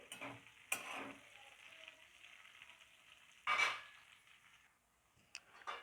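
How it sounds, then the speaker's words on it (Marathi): Green chillies fry with potato pieces in a pan for sabudana khichdi, giving a soft, steady sizzle broken by a few louder spatula scrapes and stirs, with no talking. "याला पण आपण एक ते दोन मिनिट फ्राय करून घेऊ"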